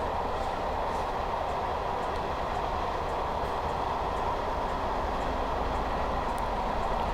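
Electric intercity train accelerating in Train Simulator 2019, a continuous steady rumble of traction and rolling wheels with faint rhythmic clicks, moderately loud and unbroken.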